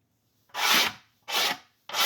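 Three rough scraping strokes removing adhesive residue from a 1969 Rogers drum shell, each a harsh rasping rub lasting about half a second, separated by short silences, close and fairly loud.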